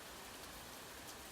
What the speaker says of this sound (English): letting the soothing sound of rain wash over you